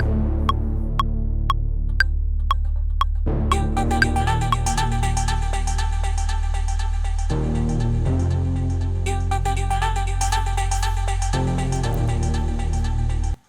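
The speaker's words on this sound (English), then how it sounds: "you can hear a very, very heavy echo" A sustained vocal-like tone drenched in heavy echo, notes smearing and ringing over a steady low hum and throbbing music bed.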